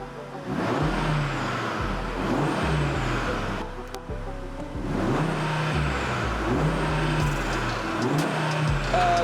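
A 2022 Audi RS3 Saloon engine roars loudly in its loudest exhaust mode, revving up in repeated surges with a deep, rumbling exhaust, steady and close.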